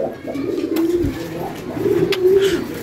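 A satinette pigeon with a cold coos in low, rolling throaty phrases, close by, with a faint click or two in the background.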